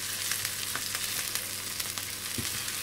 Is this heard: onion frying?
yes